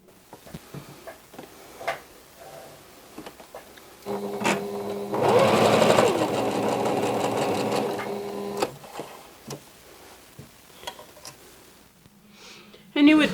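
A sewing machine stitches fabric squares together for a mini quilt, running in one steady, close burst for several seconds between quieter stretches of handling noise and small clicks.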